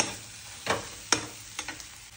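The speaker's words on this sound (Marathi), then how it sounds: "थोड्या वेळ जरा परतून घेतो आम्ही." Egg bhurji is sautéed in a pan over a faint background sizzle, with three or four distinct spatula scrapes and taps close by.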